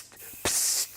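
A short burst of spray hisses for about half a second, near and fairly loud, with quiet room sound before and after, during preparation for a craft demo.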